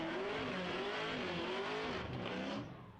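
A drift car spins out on the track at a drift competition, its engine screaming at high revs with a wavering pitch and tire noise before the sound fades at the end, loud and sustained.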